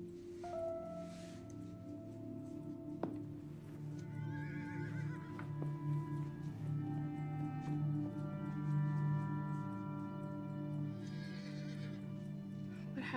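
A horse whinnies in a long, wavering neigh that rises and falls over several seconds, with faint hoof clip-clops and rustling around it.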